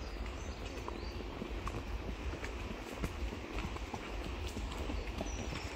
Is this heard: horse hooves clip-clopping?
yes